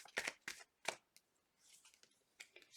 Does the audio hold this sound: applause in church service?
no